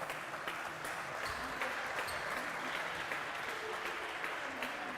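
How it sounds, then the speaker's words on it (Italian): Spectators applaud at a women's Serie B basketball game between BF Conegliano and Libertas Cussignacco as a player leaves the court, a steady, fairly distant wash of clapping filling the arena. "Esce tra gli applausi comunque Rossana Boccalato."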